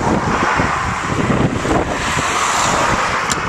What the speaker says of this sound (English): wait till these cars have gone